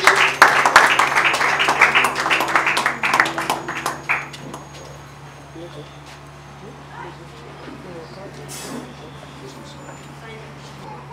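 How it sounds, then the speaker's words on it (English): Wedding guests break into applause for the pastor at a church ceremony, a dense burst of clapping for about four seconds that fades into room murmur and low hum. "Let's clap for him as he came pastor."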